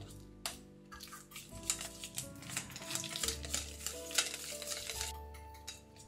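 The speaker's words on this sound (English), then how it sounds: "We mix it until it turns creamy." Cream cheese beaten in a bowl until creamy, with repeated quiet scraping and tapping of the utensil against the bowl over soft background music.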